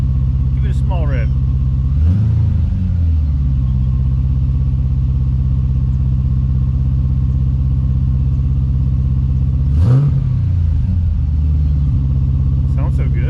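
A supercharged Pontiac GTO idles with a heavy, loud exhaust rumble and is given two short revs a few seconds apart, each swelling quickly and dropping back to the deep idle.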